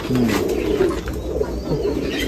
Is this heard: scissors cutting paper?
no